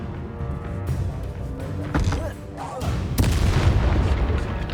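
In Hogwarts Legacy, the Exploso spell sets off booming blasts, with a sharp hit near two seconds and a heavier rumbling explosion from about three seconds, set in a busy, loud battle mix.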